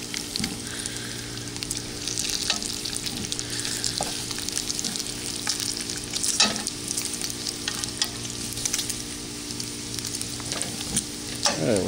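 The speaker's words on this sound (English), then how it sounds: "Keep the frying." Bacon fries on a grill on the Fourth of July, a steady bright crackling sizzle with frequent pops and spits, close up and continuous with no talking.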